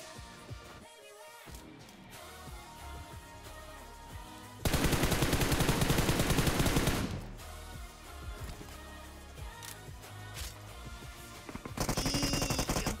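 Long bursts of rapid DP machine gun fire ring out in a BGMI mobile game fight, loud and sustained, alternating with quieter stretches of gunfire, with the loudest burst in the middle and another near the end.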